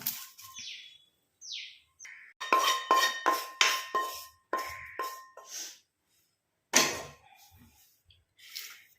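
Roasted hair dye ingredients are scraped and poured from a metal pan onto a plate, a series of loud clattering metallic scrapes and knocks in short bursts with a few high squeaks, close up and without talk.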